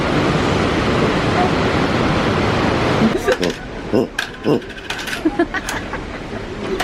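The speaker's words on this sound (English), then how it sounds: "love me some of that waterfall" Waterfall in Nikko, Japan, heard from the lower observation deck as a loud, steady rushing roar for about three seconds before it drops away under quieter surroundings.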